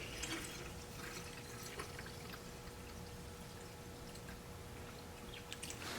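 Coolant pours into the cooling system of a BMW 328i E36, a continuous soft trickling and splashing of liquid that stays steady throughout, with faint drips and no talk.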